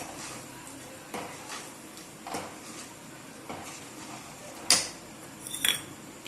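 A dried fish curry (karuvadu kulambu) with tamarind water is stirred in a pot: quiet, intermittent scrapes and soft knocks of a spoon, with a couple of sharper metallic clinks near the end. No voices are heard.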